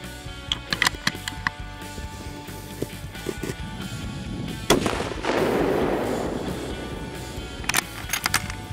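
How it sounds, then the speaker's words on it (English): A long range rifle shot booms outdoors with a rolling echo trailing off, preceded and followed by faint clicks and handling noises close by. "Let's go for our final shot, which would be to match it right up to our first shot."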